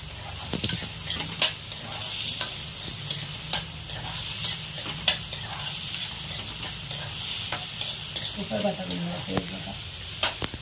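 Tomatoes frying down to a pulp in a pan while being stirred, a continuous sizzle broken by regular scraping strokes of a spoon, close and fairly loud.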